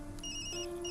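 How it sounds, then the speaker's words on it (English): A mobile phone rings in the video game Tokyo Dark, a steady electronic ringtone with repeating tonal pulses over a continuous musical background, heard alone without talk. "Sorry, Yumi, that's my phone."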